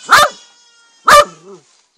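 Two sharp barks from a dog at a cottage, spaced about a second apart, close and loud, the second trailing into a brief whine.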